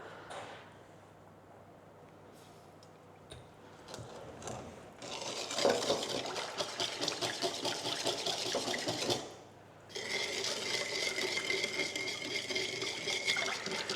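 A whisk beats caster or white sugar into homemade muffin batter in a bowl, a steady rapid scraping and sloshing that starts softly and grows busier, with a short pause before it resumes.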